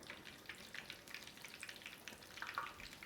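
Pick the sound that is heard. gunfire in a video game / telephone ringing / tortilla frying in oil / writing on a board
tortilla frying in oil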